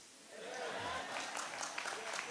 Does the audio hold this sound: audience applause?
yes